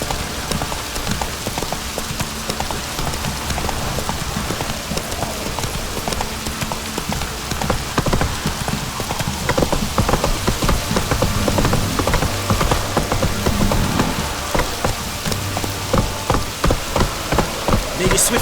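A heavy downpour in The Witcher 3: The Wild Hunt drums steadily and loudly on surfaces. Horse hooves clip-clop beneath the rain throughout.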